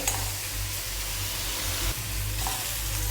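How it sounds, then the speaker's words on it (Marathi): Crushed ginger and garlic fry in hot oil for a pavta bhaji, giving a steady close sizzle with no talking. "आता ही तिन्ही एकत्र मी भाजून घेते"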